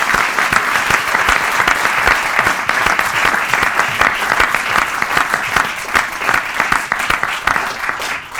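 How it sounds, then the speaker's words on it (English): A roomful of people at a functional medicine forum event applauds the panel and speakers, loud dense clapping that holds steady throughout with individual claps standing out in the mix. "I'd like to finish off by giving a huge round of applause to the panel and all the speakers tonight."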